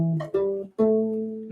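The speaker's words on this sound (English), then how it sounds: "we're going to want to use the A blues scale, and that's going to sound something like this." On a U-Bass, a few notes of an A blues scale are plucked close up, each sustaining with a brief gap and slide between them, deep rubbery tones at moderate loudness with no talking.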